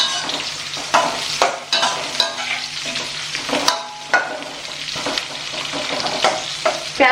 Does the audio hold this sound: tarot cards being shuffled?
no